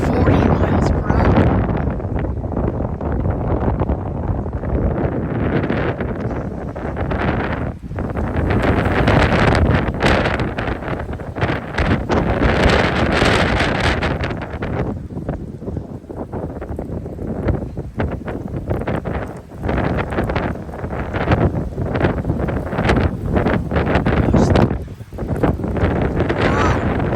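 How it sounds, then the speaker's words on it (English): Strong wind gusts of around 40 mph in Plano, Texas, buffeting the microphone with a loud, continuous rumbling roar that surges and dips throughout, with a person talking under the noise. "Pretty strong winds here in Plano, Texas. The winds are stronger than they look on camera."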